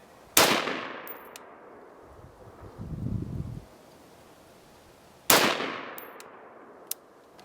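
Two sharp rifle shots ring out on an outdoor shooting range, each with a long echoing decay, spaced about five seconds apart, with faint wind and a low rumble between them.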